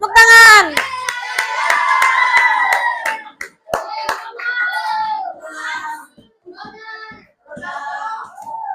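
Schoolchildren in a classroom clap their hands in a burst of sharp, rhythmic claps that fade after a few seconds, with children's voices calling and chanting over and after the clapping.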